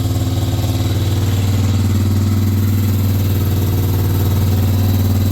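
A 2004 Polaris Sportsman 400 ATV engine runs at a steady, loud idle right after a choked first start, with a low rhythmic chug throughout and no talking.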